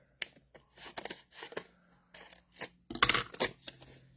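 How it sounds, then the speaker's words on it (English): A pair of scissors cutting paper, a few short close snips and crisp rustles in uneven bursts, quiet overall with one louder cluster near the end. "I'm going to use a pair of scissors."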